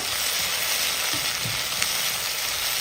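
Chopped onions sizzle steadily in a hot pan, a continuous close frying hiss with a few soft scrapes of stirring, no voices present.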